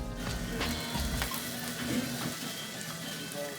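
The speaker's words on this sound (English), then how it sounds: "Just that sizzle just makes me hungry." Taco fillings sizzle on a grill, a steady crackling hiss with scattered pops and a low rumble underneath, heard up close and alone for a few seconds.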